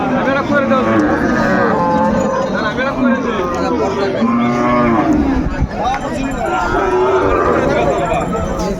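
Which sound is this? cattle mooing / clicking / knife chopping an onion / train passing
cattle mooing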